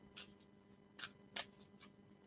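A brand-new tarot deck shuffled close by in a few separate soft riffles and snaps, spaced out over a quiet room with a faint low hum.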